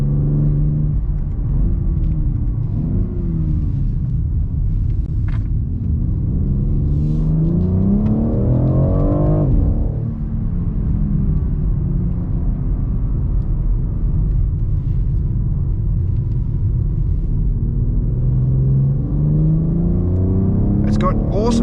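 A 2023 BMW X4 M Competition SUV accelerates hard on a winding road in manual mode, its engine note climbing steadily, dropping at a gear change, then building again, loud and close throughout.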